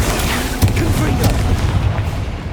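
A Confringo fire spell exploding in the Hogwarts Legacy video game, heard as a loud, dense booming rumble that rolls on throughout with a few heavier thuds inside it.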